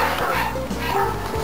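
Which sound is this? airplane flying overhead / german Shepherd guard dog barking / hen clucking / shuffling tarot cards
german Shepherd guard dog barking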